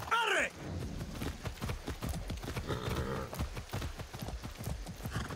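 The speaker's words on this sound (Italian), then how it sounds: "Arriva un cavallo." Horse hooves in Far Cry 6 clip-clop in a quick, steady trotting rhythm that continues throughout at a moderate volume, with the animal close by.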